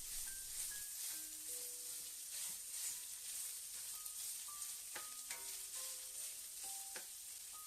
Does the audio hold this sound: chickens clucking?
no